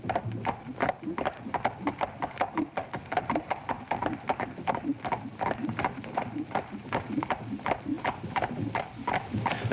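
Horses' hooves clip-clop steadily on a foggy London street in a 1953 crime drama, a brisk continuous rhythm of many overlapping hoof strikes from several mounted riders, moderately close and even throughout.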